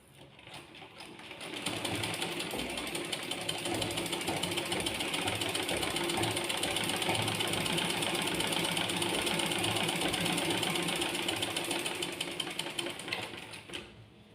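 Sewing machine stitching release tucks in tailoring, a steady fast mechanical whir with rapid needle clatter running continuously for most of the stretch, starting and stopping softly at the ends.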